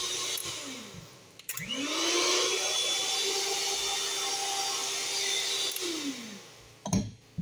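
A kitchen blender mixing peanut butter cheesecake batter whirs up to speed, runs loud and steady for about five seconds, then winds down, followed by a couple of sharp knocks.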